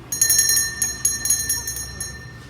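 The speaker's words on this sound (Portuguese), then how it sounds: "Temos o sino. Os coroinhas gostam de tocar." Altar bell rung by altar servers during a Catholic Mass: a bright, shimmering metallic ringing shaken in quick repeated bursts, close and fairly loud, fading out near the end.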